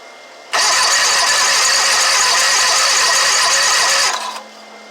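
Starter cranking an Exmark mower engine: a loud, continuous rapid whirring churn that starts abruptly, runs steadily for about three and a half seconds, then cuts off without the engine catching.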